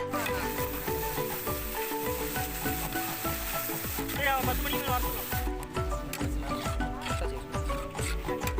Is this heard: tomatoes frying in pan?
yes